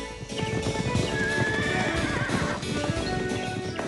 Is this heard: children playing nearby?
no